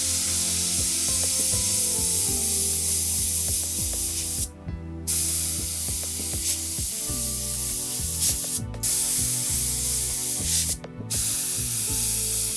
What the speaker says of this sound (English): we'll spray some paint through it